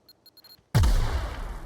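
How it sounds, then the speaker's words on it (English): Four quick beeping tones from The Outer Worlds are followed by a sudden loud gunshot blast that decays into a long rumbling tail. "I swear to God I shot it"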